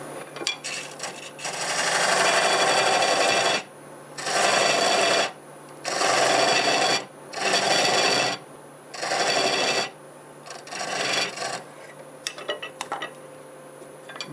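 A homemade dovetail cutter cuts maple burl on a lathe, giving five or six loud, rasping bursts of a second or so each, separated by short gaps over a constant motor hum, with no voices.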